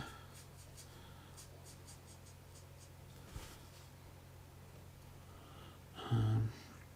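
A brush pen scratches and strokes over paper while colouring, giving soft, close, rhythmic scratching with a brief louder bump near the end.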